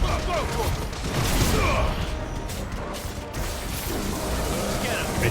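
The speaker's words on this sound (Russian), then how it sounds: "Опять эфирная пушка." A Final Fantasy XVI ether cannon blast lands as loud crashing, smashing impacts over a dense rumbling roar, close and continuous for several seconds with a brief dip in the middle.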